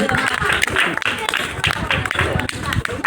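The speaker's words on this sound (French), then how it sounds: "on continue à applaudir, on continue à acclamer pour elle" School audience claps and cheers loudly and close by, rhythmic clapping mixed with shouting voices and excited crowd noise throughout.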